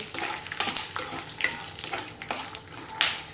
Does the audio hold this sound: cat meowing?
no